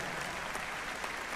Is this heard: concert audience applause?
yes